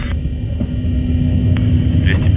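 An Antonov An-124 lands on the runway at Leipzig, a loud, steady low jet rumble close by that holds for the whole moment, with faint voices in the background.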